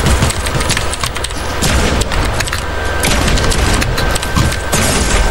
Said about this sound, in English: Good shotgun aim.